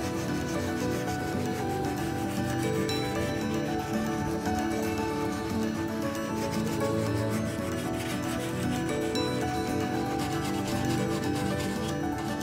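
Steady, continuous rubbing and rasping as sandpaper works over resin on a repaired carbon fiber bike frame chainstay, close and even in level throughout, with no talking.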